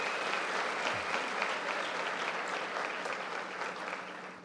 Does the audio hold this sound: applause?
yes